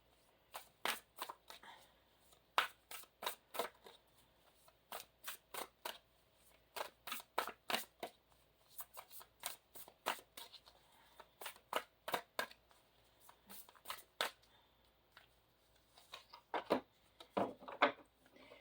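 Tarot cards are handled and laid out on a surface, producing a series of quiet, crisp flicks and snaps in irregular bursts, close and faint, with no voices.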